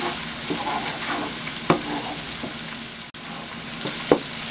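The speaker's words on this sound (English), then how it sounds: "we're going to put some flour and start frying it to make the gravy" Continuous sizzling of flour frying in a hot pan for gravy, close up, with a few sharp scrapes and clinks of stirring and no talking.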